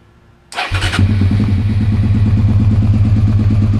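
A motorcycle with a full race header and Delkevic slip-on exhaust fires up and settles into a loud, steady, throaty idle with a rapid pulsing exhaust rumble, close by.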